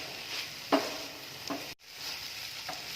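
Beef filling for bread pola being mixed in a pan, with a steady low sizzle and a few distinct spoon scrapes and knocks against the pan.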